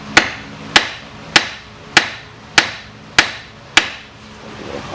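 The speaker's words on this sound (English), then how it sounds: "Now you want to hammer what this goes through." A hammer strikes near the tapered tie rod end on a 2008 Pontiac Grand Prix front suspension, seven sharp metallic blows at an even, roughly once-per-second pace, loud and close with short ringing decays and no talk.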